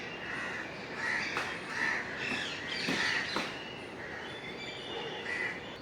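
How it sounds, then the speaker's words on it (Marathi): Crows caw repeatedly in a park on Malabar Hill in Mumbai, with other birds calling over a steady wash of city background noise. "पक्ष्यांचे आवाज येत आहेत वेगवेगळे"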